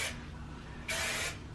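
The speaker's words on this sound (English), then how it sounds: "So I'll spray a little bit of hairspray" Two short bursts of hairspray from an aerosol can misted onto hair, a brief hiss then a longer one after a pause, fairly quiet and close.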